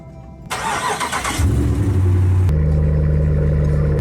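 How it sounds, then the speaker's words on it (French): A Dodge RAM Longhorn pickup starts remotely: a quiet hum gives way to a burst of starter noise, then the engine catches with a loud rev and settles into a strong, steady idle. "je le démarre à distance"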